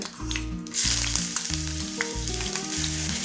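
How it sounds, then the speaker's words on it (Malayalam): Whole spices with crushed ginger and garlic fry in hot oil for a Kerala-style mutton roast, giving a steady, close sizzle that swells after the first second, with low tonal sounds running underneath. "20 വെളുത്തുള്ളി ചതച്ചത് വഴറ്റി കൊടുക്കാം."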